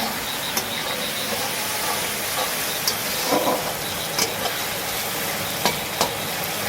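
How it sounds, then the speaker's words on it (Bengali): Tomatoes fry and get stirred in a large pan for a big batch of aloo dum, making a continuous hissing sizzle punctuated by scattered spatula clacks, close and steady, no one talking. "টমেটোগুলো ভালো করে কষে কিন্তু মেরে নিচ্ছি টমেটোগুলোকে ভালো করে ভেজে নিতে হবে"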